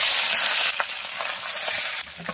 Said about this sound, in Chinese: 油煎一下